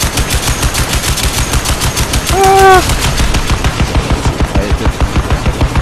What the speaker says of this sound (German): Was schießt denn hier auf mich?